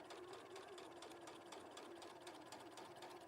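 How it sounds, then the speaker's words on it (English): A sewing machine runs continuously while stitching a quarter-inch seam through two layers of fabric, a steady fast mechanical whir with rapid needle clatter, quiet and even throughout. "this is a 1/4 of an inch seam I'm sewing along here"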